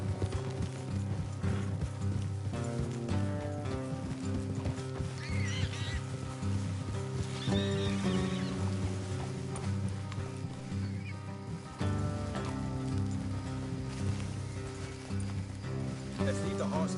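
Horses in a PS4 video game clopping along with steady hoof beats and occasional whinnies under a music score, while characters talk over them.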